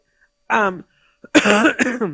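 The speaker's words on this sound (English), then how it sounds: "I even have a cough drop and I'm still coughing." A person coughs and clears their throat several times, close and loud, in short harsh bursts.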